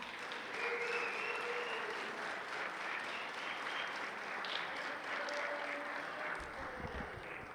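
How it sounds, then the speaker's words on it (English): Audience at a June 2019 ballooning program giving a presenter a round of applause, a steady sustained clapping from a sizeable crowd in a room lasting several seconds, alone without talk. "If we give Jonathan a round of applause as he makes his way up to the front"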